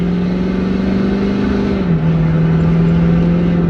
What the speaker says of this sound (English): the exhaust kicks in and just kind of bellows out compared to the cool air intake